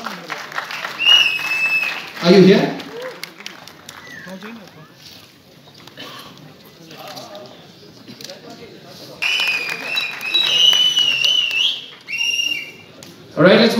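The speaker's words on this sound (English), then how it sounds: "Let's have a huge round of applause." An audience at a model and designer awards show claps and cheers with scattered whistles, swelling in waves around a speaking voice and music.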